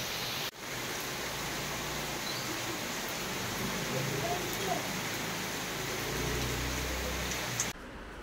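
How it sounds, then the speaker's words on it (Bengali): Heavy rain pours down at night, a steady dense hiss that fills the whole scene without a break and stops abruptly near the end. "রাত্রিবেলা মুষলধারে বৃষ্টি হচ্ছে এখানে"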